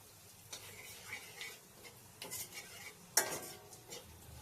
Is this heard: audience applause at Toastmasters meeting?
no